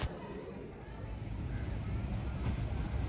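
Pakistan Express passenger train rolling into platform 3 at Wazirabad Junction, a steady low rumble and rattle of wheels and carriages continuing throughout, with no clear talk over it.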